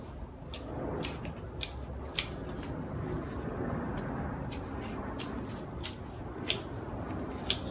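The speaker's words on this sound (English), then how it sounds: "all I've done is to trim it into a conical shape" Small scissors snip repeatedly at the leaves of a maple bonsai being trimmed into a cone, a string of crisp, close clicks at an uneven pace over steady soft background hiss, with no talking.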